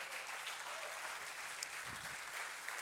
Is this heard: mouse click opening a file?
no